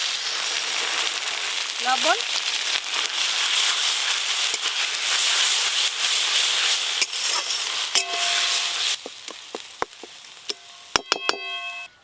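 Bottle gourd leaf paste hitting hot garlic oil in a pan, a loud continuous sizzle and hiss with stirring knocks, calming toward the end amid sharp clinks; a voice speaks briefly.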